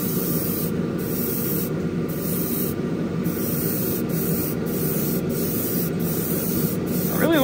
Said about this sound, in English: I really like this airbrush.